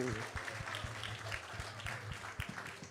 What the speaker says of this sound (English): So let's give a big round of applause to everyone who has joined us here.